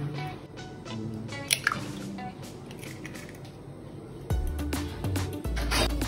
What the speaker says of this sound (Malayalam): പിന്നെ ഒരു മുട്ട പൊട്ടിച്ച് ചേർക്കുന്നുണ്ട്